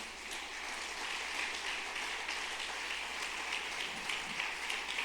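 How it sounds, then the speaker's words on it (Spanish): A church congregation applauds during a Spanish-language sermon, a steady, dense wash of clapping hands that holds at an even level throughout, heard from within the room. "Dale un aplauso al Señor en esta mañana."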